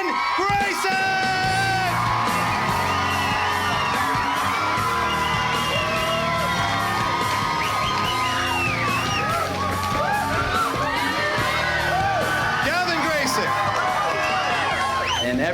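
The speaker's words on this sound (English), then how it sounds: "And everybody who's out there cheering, I heard so many people in every section of the track" A motocross race crowd at Walton yells, cheers and whoops continuously, with many overlapping shouts rising and falling, loud and close throughout.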